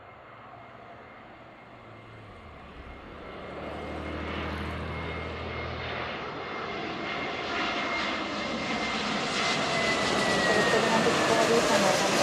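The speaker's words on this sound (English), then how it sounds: "This is a 321 from LAX Frontier, flight 1177." A Frontier Airbus A321 jet airliner from LAX, Frontier flight 1177, roars steadily at an airport, its broad engine rumble swelling louder as it passes, heard alone.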